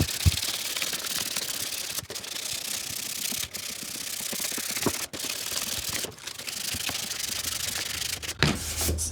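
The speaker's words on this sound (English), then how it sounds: "If it's too tight for your pipe, you gotta keep rubbing." A PVC drain pipe end is rubbed and sanded down to fit a tight coupling during a bathroom remodel's DWV plumbing dry fit, giving a steady, close, abrasive scraping with a few brief pauses and no talk.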